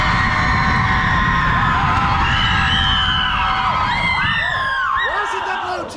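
An audience at a comedy sports match cheering for the red team, loud crowd noise with whoops and yells from many voices, holding steady and then easing off at the end.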